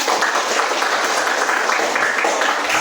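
A class of students applauds together, a steady, dense wash of hand clapping that holds evenly throughout at close range, with no voices over it.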